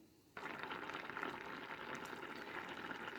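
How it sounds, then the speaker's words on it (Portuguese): Water boiling in a cooking pot with saffron, grated garlic and salt for rice, a faint but steady bubbling hiss that starts abruptly and carries on without talk. "A água já tá fervendo."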